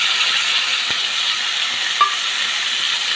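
Cumin and chopped tomatoes frying in coconut oil, a loud continuous close sizzle with faint stirring scrapes and a brief clink, no voices.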